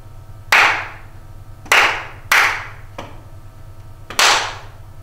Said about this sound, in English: You should be thinking tas and toddies as I'm clapping.